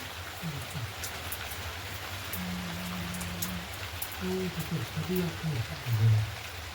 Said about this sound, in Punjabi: ਮੀਂਹ ਦੁਬਾਰੇ ਫੇਰ ਆ ਗਿਆ ਵੱਧ ਗਿਆ ਸੀ ਹੁਣ ਮੀਂਹ